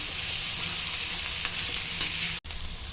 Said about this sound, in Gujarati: હવે આ બધું મિક્સ કરી દઈશું